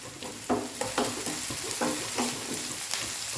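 Shallots and curry leaves frying hard on a high flame for a prawn dish, a bright, crackling sizzle broken by repeated quick scraping strokes of a spatula, close and continuous.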